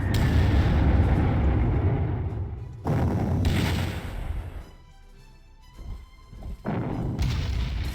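Artillery fire from a strategy wargame, Panzer Corps: heavy booming blasts with rumbling decay, a long loud barrage opening, then several more sharp booms after a brief quieter gap.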